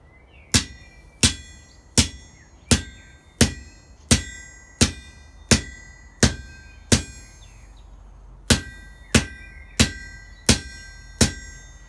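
A hammer strikes an anvil about seventeen times in an even rhythm. Each blow gives a bright metallic clang that rings briefly, with a short pause midway.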